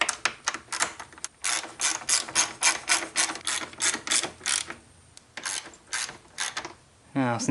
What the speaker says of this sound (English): Now just go ahead and start bolting down the fan.